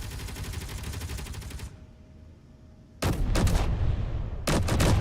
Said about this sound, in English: Come on, turrets. You gotta hit him.